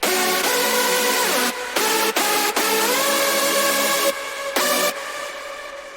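Screaming hardstyle synth lead with reverb and delay and no bass line, playing loud sustained tonal phrases broken by a few short gaps, with tails ringing into the breaks.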